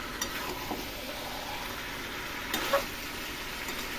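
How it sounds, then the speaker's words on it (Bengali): Masala sautés in a small kadai with a soft, steady sizzle and a couple of faint scraping stirs, no voices. "এরকম করে 2 মিনিট 3 মিনিট কষিয়ে নেবো"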